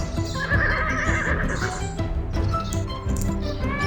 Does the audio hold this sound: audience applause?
no